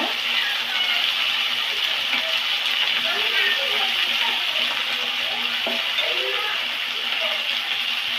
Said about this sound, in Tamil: நல்லா கொஞ்ச நேரம் எண்ணெயுமே வதக்கணுங்க